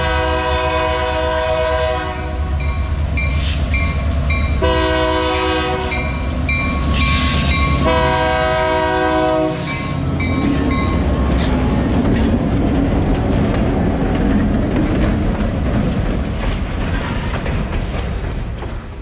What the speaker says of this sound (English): Right behind the Wilder Monument, there's an active railroad line.